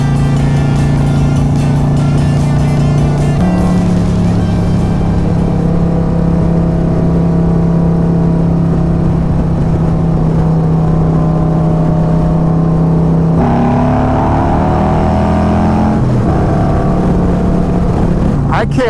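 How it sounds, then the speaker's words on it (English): A McLaren sports car revs loudly and close by, its engine note holding a steady drone before surging higher, while a person talks over it. "Oh, a little McLaren action."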